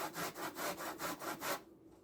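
Lemon zest rasped on the fine side of a cheese grater, six even strokes back and forth in a steady rhythm, close and moderately loud, then a quiet pause.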